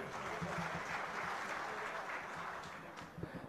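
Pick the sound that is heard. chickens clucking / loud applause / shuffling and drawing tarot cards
loud applause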